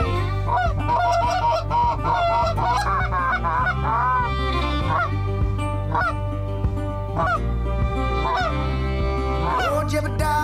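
Loud, continuous honking of a Canada goose near a pit blind during a Nebraska goose and duck hunt, calls coming in rapid uneven bursts for the whole stretch, with no voices.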